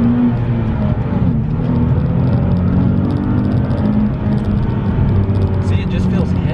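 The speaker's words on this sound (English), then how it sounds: "we're gonna do another first gear pull" A Nissan 370Z convertible accelerates at full throttle in first gear, its engine droning loudly and climbing in pitch with steady road noise, while a person talks over it.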